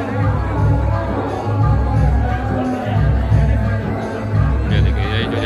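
A large outdoor crowd murmurs at a Priyanka Gandhi Congress rally in Banaras, a steady dense babble of many voices with low rumbling background noise, loud and continuous throughout.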